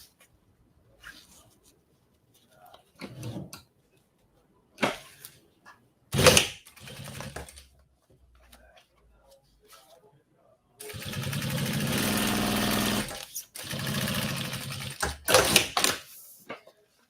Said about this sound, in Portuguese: E vou passar uma costura reta aqui.